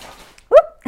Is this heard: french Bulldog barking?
yes